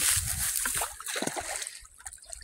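Water splashes and sloshes as someone wades down a steep, muddy bank into it, the splashing loudest at the start and then thinning into scattered, softer splashes.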